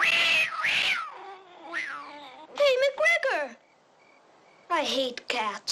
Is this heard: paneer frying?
no